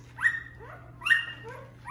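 A young puppy gives two or three high, thin whimpers and yips, close by and indoors, with a low steady hum underneath.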